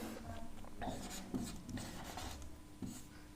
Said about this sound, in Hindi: तो हम लोग लिखेंगे